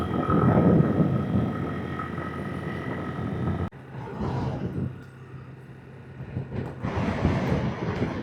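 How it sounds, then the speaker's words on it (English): Strong wind roars and buffets against the microphone during a mountain descent in Yunnan, China, loud and continuous, easing briefly midway before gusting up again toward the end. "A lot of wind."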